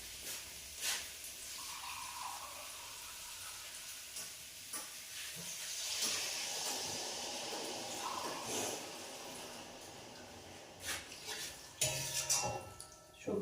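Water being poured into a pot of vegetables and potatoes on a gas stove, a soft hissing splash with light clinks of pots and utensils throughout, rising toward a louder rush near the end.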